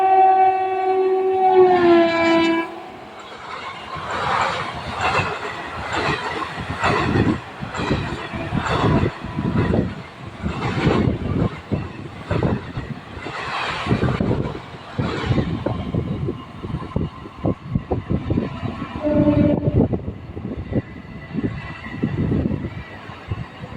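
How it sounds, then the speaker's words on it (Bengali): An express train's horn sounds briefly, then the train rumbles and clatters past loudly and steadily for many seconds, its wheels thumping rhythmically. "দেখতে একটা ট্রেন ছুটে আসছে"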